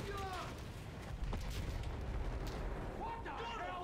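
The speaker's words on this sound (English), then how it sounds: "Hey, it's the artillery." Artillery shells pound a Battlefield 1 battlefield in a brief, muffled burst of booms, heard fairly faint under the game's ambient noise and some voices.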